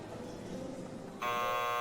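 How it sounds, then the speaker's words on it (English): A theater buzzer in the game Chaos;Child, a loud steady electric drone that cuts in abruptly after a quiet ambient stretch and holds to the end. "after a while the buzzer rang and the curtain came up"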